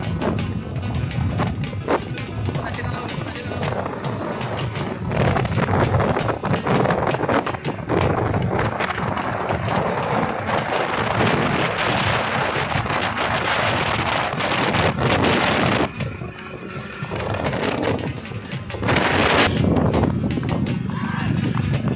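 Sindhi horses ridden at a fast gait in a race, hooves clip-clopping in a rapid continuous rhythm, loud and close, with wind buffeting the microphone, an occasional whinny and people talking throughout.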